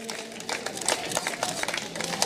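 Spectators clapping at a Czech Cup cross-country mountain bike race (Hello Bank! STRABAG cup 2019), a steady patter of scattered applause from a modest outdoor crowd with faint voices mixed in.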